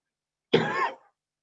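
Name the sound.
cough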